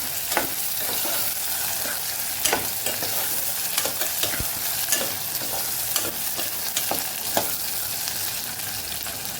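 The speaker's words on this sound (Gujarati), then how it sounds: "બટેટાને ઉમેરીને આપણે સરસ સાતડી લેવાના છે" Potatoes sautéing in oil in a pan for spiced vagharelo rice, with a continuous close sizzle and irregular scraping stirs of a spoon against the pan.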